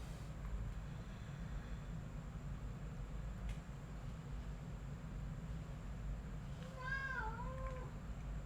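A house cat gives a short meow near the end, faint over a steady low rumbling background hum.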